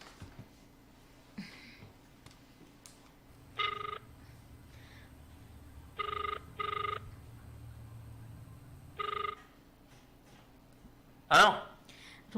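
A phone rings back on an outgoing call, with four or five evenly spaced electronic ring tones over a faint hum and a sharp knock near the end.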